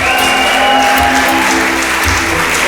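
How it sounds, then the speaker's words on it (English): Concert audience at a live show in Glasgow applauds a band member, dense continuous clapping with some cheering under it, loud and sustained throughout. "Let's hear it for Tim, everyone."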